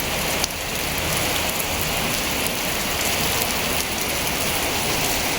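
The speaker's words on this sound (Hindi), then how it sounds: "अच्छी खासी बारिश हो गया।" Heavy rain pours steadily onto a surface, a dense, continuous hiss of drops at close range with no pauses and no voices.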